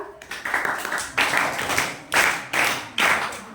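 Several bursts of clapping from a small audience at a school quiz, sharp and close, stopping and restarting in short rounds.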